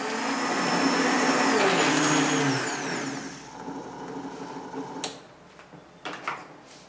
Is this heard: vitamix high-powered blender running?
yes